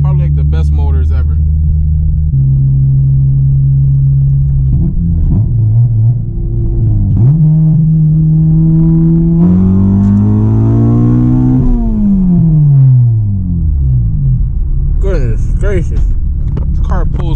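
A Honda Civic Si with a K-series engine running on E85 accelerates hard, its loud, close engine note climbing through the gears with rising pitch sweeps. Someone talks over the engine.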